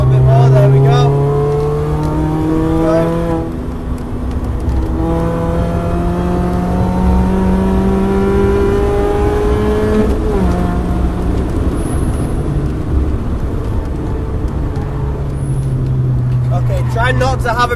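A car engine revs hard on a track day at Cadwell circuit, loud and close, rising and falling through the gears in long sweeping pitch climbs, with a voice talking over it.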